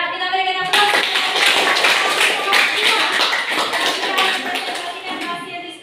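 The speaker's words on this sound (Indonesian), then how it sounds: "Ya, kita berikan aplaus." Classroom applause breaks out after a student group's presentation, a loud, dense burst of many hands clapping that starts abruptly and holds steady for several seconds before easing slightly.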